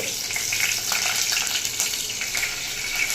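Bay leaves, cumin seeds and green chillies fry in hot oil, making a steady close sizzle with soft crackling throughout.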